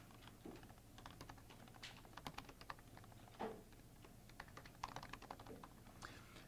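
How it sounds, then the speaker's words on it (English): Fast irregular typing on a computer keyboard during a cell modeling workshop session, a steady patter of clacky keystrokes over a low room hum with no one talking. "you can see my typing is terrible"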